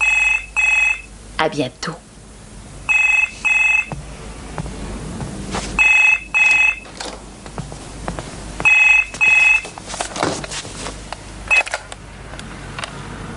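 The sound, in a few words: telephone ringing, left unanswered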